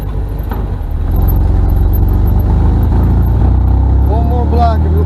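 An abandoned 1974 MGB GT British sports car on its first drive after 25 years, its engine running loudly with a steady low drone and a rising rev near the end, heard from inside the car.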